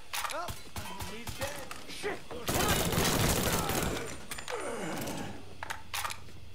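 Bursts of rapid gunfire and scattered single shots crackle through a Mafia III firefight, with a dense volley in the middle and shouted voices between the shots.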